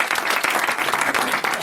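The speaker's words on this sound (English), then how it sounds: "please give a massive round of applause for the amazing Geoff Maisey!" Brief burst of audience applause at a toy-collecting talk, many hands clapping at once, loud and close, lasting under two seconds with no speech over it.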